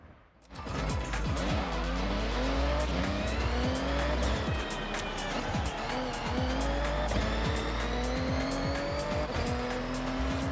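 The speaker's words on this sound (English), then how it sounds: "You can hear the tyre squeal because I'm trying" Car tyres squealing in the racing video game Forza Horizon, a loud, sustained screech over a revving engine note that rises and falls while the car is driven hard through a corner.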